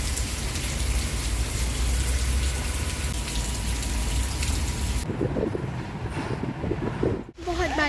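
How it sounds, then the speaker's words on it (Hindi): Heavy monsoon rain pours down steadily and loudly in Gurgaon, a dense continuous hiss that dominates for several seconds before easing into a more open patter with closer drips and splashes. "बहुत बारिश हो रही है गाइस"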